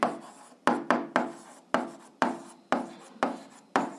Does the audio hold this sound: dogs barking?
no